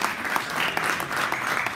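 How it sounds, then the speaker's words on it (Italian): Brief burst of dense, even audience applause at a public talk, a crowd clapping continuously with no voices rising above it. "Continuiamo con l'applauso a Maurizio Madone"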